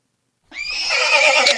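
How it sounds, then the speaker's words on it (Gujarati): A mare whinnies loudly and close, a single drawn-out neigh rising suddenly from silence and holding to the end. "આ બધો ઘોડી છે."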